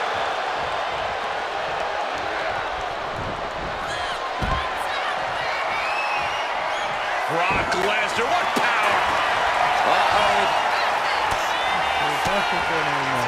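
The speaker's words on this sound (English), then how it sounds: "What a raucous crowd here tonight." A dense, roaring arena crowd in the wrestling video game WWE 2K26, during an online Hell in a Cell match, swells steadily beneath play-by-play commentary, with heavy slam impacts thudding through the crowd noise.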